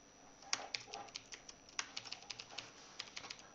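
Fingers type login details on a computer keyboard in a rapid, uneven run of light clicks and taps, close and fairly quiet, with no talking.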